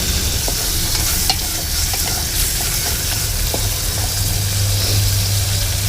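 Onions being stirred and fried in a pan, a loud, continuous crackling sizzle close by, with intermittent scraping and clinking of a spoon and a low steady hum beneath.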